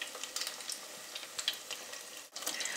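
Beer-battered cod deep frying in hot oil, a dense steady sizzle with crackling pops, broken by a brief dip near the end before the hiss resumes.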